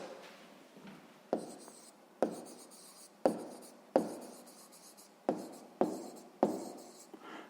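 Pen or chalk writing out a math answer on a board, with several sharp taps and strokes spaced about a second apart, close and fairly clear with no talk.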